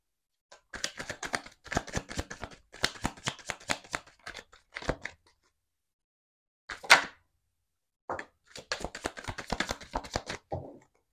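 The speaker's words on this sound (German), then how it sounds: "So, ein bisschen die Karten mischen." Tarot cards being shuffled by hand in bursts of quick riffling and flicking, several runs separated by short pauses, close and fairly quiet with no talking.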